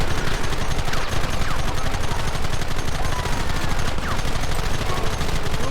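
Rapid gunfire from a shootout in the video game Red Dead Redemption, a dense, continuous barrage of shots that fills the whole stretch loudly with no pause.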